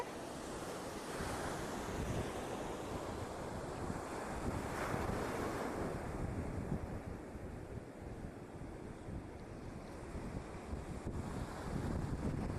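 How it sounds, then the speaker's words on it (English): Ocean waves wash in and out in a steady roar at Burleigh Head National Park, with gusts of wind buffeting the microphone throughout. "let's just listen to the sounds of the waves"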